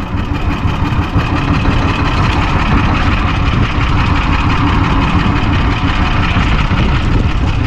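A boat or machine engine idles steadily and loudly at close range, a continuous low mechanical drone with constant vibration and no pauses.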